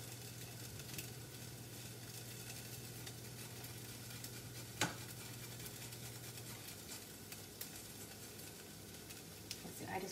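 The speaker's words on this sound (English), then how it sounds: "We're gonna give that a little bit of a stir." Kumquat chutney being stirred in a hot pan, a steady low sizzle of frying with soft scraping and stirring throughout, one sharp clink near the middle, and quiet talk in the background.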